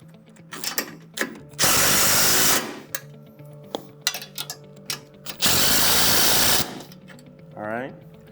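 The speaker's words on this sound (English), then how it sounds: "I'm going to go ahead and tighten the wedges down now" A power tool tightening the wedges on Polaris RZR rock sliders: two loud sustained whirring bursts of about a second each, close, with someone talking before, between and after them.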